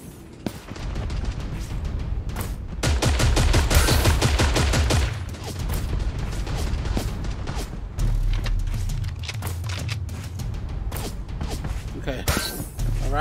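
Rapid bursts of gunfire fill a shootout in the video game Creative Destruction, dense volleys and single shots coming from several directions, loudest in the middle stretch and continuing steadily to the end.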